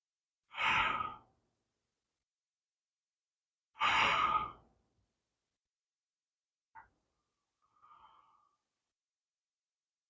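Two long, deep breaths exhaled and drawn in during a chair yoga routine, each about a second long and several seconds apart, close and clear in a quiet room, followed by a couple of faint small clicks.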